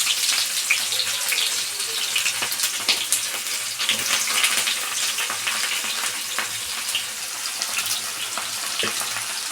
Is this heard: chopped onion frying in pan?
yes